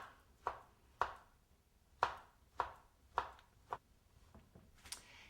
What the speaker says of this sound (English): we'll just slice it in, not too thin slices